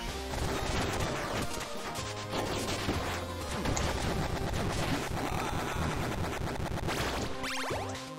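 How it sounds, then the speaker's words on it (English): Explosions and crashing blasts pound through the Cyber Shadow action game, dense and continuous over layered game music and effects, with sharp impacts repeating throughout. "Does that explosion hurt me?"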